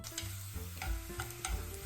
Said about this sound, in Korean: 프라이팬에 올리브유를 두르고 감자를 볶는다.